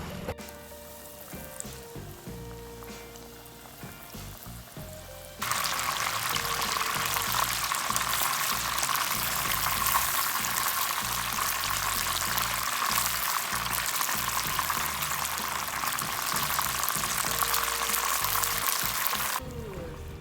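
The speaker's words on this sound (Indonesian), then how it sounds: "Masukkan ayam satu persatu, kemudian goreng dengan api sedang hingga kecoklatan." Steady, loud sizzling and crackling of chicken deep-frying in hot oil over medium heat continues for a long stretch after quieter kitchen clatter, then cuts off abruptly.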